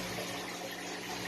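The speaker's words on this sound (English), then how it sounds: "an air pump with an air stone or a sponge filter that helps break up the water surface and gets oxygen into the tank" An aquarium air pump driving an air stone keeps a steady, dense bubbling hiss in the tank water, continuous and close with no voices.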